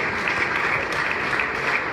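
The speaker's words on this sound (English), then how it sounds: "Give these people a round of applause." A crowd at the Neshoba County Fair gives a steady round of applause for Republican House caucus members, dense clapping throughout.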